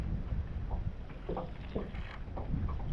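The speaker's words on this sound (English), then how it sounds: "Some wind blowing in on here." Wind gusting across an open lake during summer bass fishing from a boat, a steady low rumble and buffeting on the microphone with a few faint knocks, continuous and close throughout.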